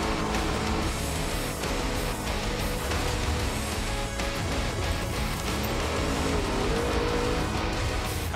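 Race car at speed in fifth gear, roughly 95–100 km/h, during a racing challenge in Lebanon; a steady, loud engine roar with tire noise runs continuously throughout.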